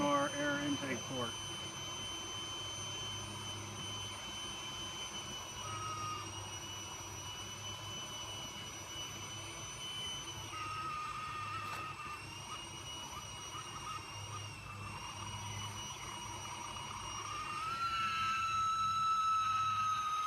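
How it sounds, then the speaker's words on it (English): Gasifier air blower running steadily, a high whining hum with a droning motor tone underneath, fairly faint and constant, growing slightly louder near the end. "Sounds like our blower is having a time of its life."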